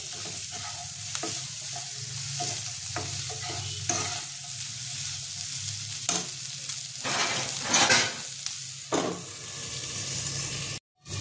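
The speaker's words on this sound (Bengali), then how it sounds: "টমেটো কিউব করা টমেটোটা দিয়ে দিলাম। এটা একটু নেড়ে দেবো।" Cubed tomato is stirred and fried in a pan, with a constant loud sizzle punctuated by repeated spatula scrapes and knocks against the pan, cutting off abruptly at the end.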